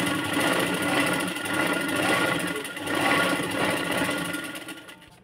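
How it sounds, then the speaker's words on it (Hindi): Sewing machine stitching a cross strip onto a blouse, a loud close mechanical whirr that rises and falls in a few runs before slowing at the end, with no speech. "उसको ऊपर से सिलाई लगा के लेना है"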